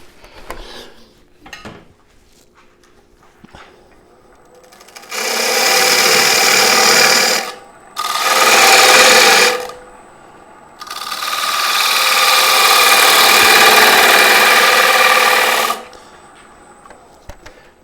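A wood lathe spins a wooden bowl while a tool works the centre and side down, giving three loud bursts of scraping, hissing cutting noise with short pauses between them. Faint knocks and clicks come before the cutting.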